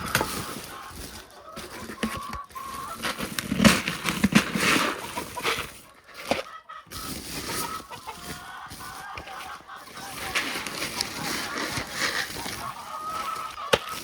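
Geese and chickens call near and far at feeding time with corn, with honks and clucks mixed over rustling and shuffling noises, while the level rises and falls.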